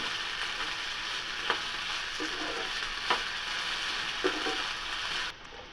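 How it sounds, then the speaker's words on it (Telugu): Ginger, green chili and potato pieces fry in a pan with a steady, even sizzle, and a few soft spoon scrapes are heard while the vegetables are stirred. "ఈ వెజిటబుల్స్ అన్నీ బాగా ఏగేలాగా కలుపుకోవాలి."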